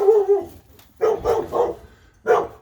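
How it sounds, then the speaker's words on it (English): A neighbor's dogs barking outdoors, several loud, fairly close barks arriving in short bursts with brief pauses between them and no speech. "ignore the neighbor's dogs"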